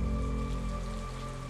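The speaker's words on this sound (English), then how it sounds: "Now it is raining." Rain in a Honkai: Star Rail trailer, a steady dense hiss of falling drops over a low sustained musical drone, heard without voices.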